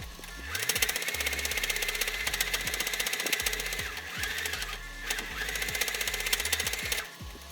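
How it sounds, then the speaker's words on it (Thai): A sewing machine stitches around a fabric knitting project bag, running in steady rapid bursts with short pauses, close and continuous, with no talk. "จากนั้นเราก็นำไปเย็บทับรอบนี้เลยค่ะ โดยเว้นส่วนด้านบนเอาไว้นะคะ"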